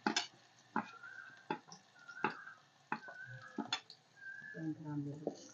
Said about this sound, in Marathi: तिखट आणि हळद टाकायचे ते सुद्धा मिक्स करून घ्यायचे